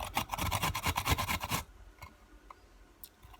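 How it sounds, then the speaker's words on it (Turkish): A cucumber is rubbed quickly back and forth on the finest side of a grater, giving a rapid run of rasping strokes close by for about a second and a half, followed by a few faint scrapes. "Şimdi birazcık salatalık rendeleyeceğiz tamam mı?"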